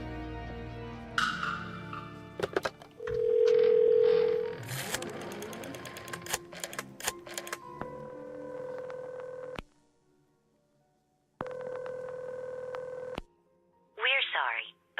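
In the horror adventure game Phantasmagoria, a telephone is dialed: a series of short electronic tones, a steady tone and a brief ringing burst play amid scattered game sounds, with a voice speaking.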